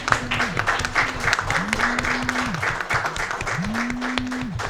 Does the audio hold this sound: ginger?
no